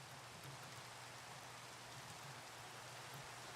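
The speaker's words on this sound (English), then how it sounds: "It's raining here and snowing over here." Rain falls in a video game map where part of the world is snowing, a faint, even hiss of steady rainfall with a low hum beneath it.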